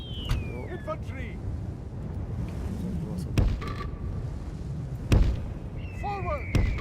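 Cannon artillery fires in a Medieval 2 battle, with several heavy booms spread across the stretch over a dense din of marching troops and shouting voices.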